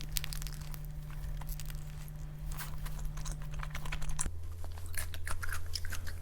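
Someone eats a cheeseburger and french fries close to the mic, with soft irregular crunches and bites over a low steady background hum that shifts pitch partway through.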